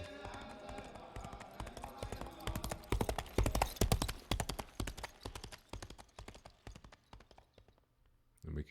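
Animated horse hooves clip-clopping in a steady, quick rhythm, growing louder toward the middle and then thinning out and fading near the end, with a voice talking over it.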